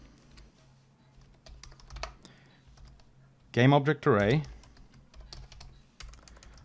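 Typing on computer keyboards while coding a Unity 2D side-scroller, clicky keystrokes running steadily through the clip under quiet talk, with a brief louder burst of speech partway through.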